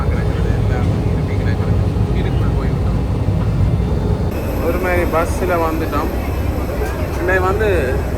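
A loud, steady aircraft roar drones throughout at an airport in Thailand, with people talking over it during the second half.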